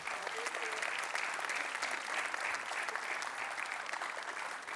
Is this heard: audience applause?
yes